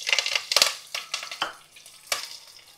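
Green chillies and curry leaves hit hot oil in a pan on low flame, giving a few close crackling bursts and spatters over a steady light sizzle, with no voices.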